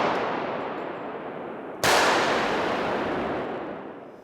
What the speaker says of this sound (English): Simultaneous firing and bullet drop test in 3, 2,